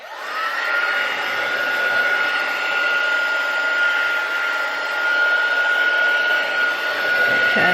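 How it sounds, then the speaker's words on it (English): A steady, loud blowing whir with a constant high whine runs unbroken for several seconds, close to the microphone. "I'm just going to get my heat gun"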